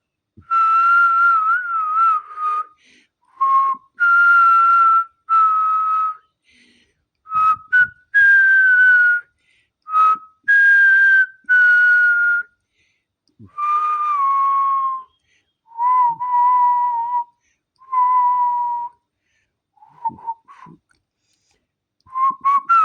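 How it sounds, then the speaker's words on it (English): A person whistles tunes from the opera Pagliacci alone, close up, in bright sustained melodic phrases broken by short pauses throughout. "I'll even whistle the tunes from Pagliacci"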